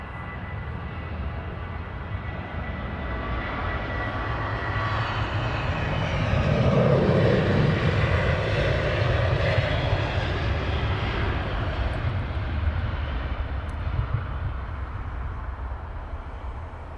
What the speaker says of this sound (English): Next one is a KLM 73 on the roll.